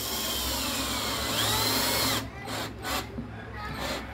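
A power drill or driver fastens parts of a built-in bipod during installation, a steady whirring buzz running for about two seconds before cutting off into quieter, intermittent handling noise.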